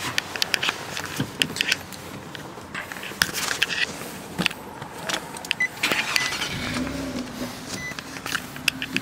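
A Nissan sports car is started up after a few clicks and clunks around the cabin. The engine catches late and settles into a low, steady idle heard from nearby.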